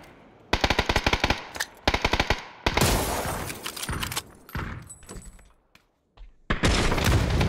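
Automatic weapon fire in the battle royale game PUBG rattles out in several loud, close bursts of rapid shots, broken by short pauses and a brief near-silent gap before a final burst.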